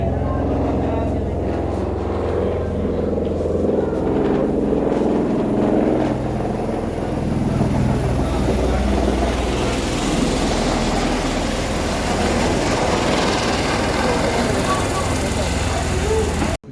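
A loud, continuous roar of a nearby helicopter's engine and rotor at the Sanjhi Chhat helipad near Katra fills the whole stretch, with voices faintly underneath.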